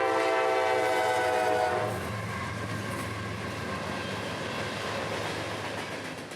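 Freight train L729, about 80 cars long, sounds a loud horn blast as it approaches on the S Line in Central Florida. The horn gives way to a steady, heavy rumble of rolling cars.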